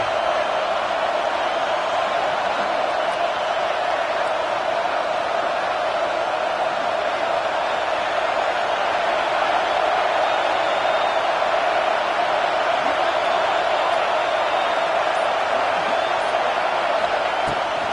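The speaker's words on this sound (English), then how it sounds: "The roar of the crowd trying to fuel this defense to keep them pinned in their own end." A football stadium crowd at an Alabama versus Oklahoma game roars steadily and loudly throughout, a dense continuous wash of many voices with no breaks.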